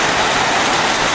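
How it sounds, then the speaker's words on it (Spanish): Steady, dense rain falls heavily and close, a constant broadband hiss with no pauses, on a rural ranch in Mexico beside an abandoned small town, with no voices. "nos agarró la lluvia en un lugar muy bonito"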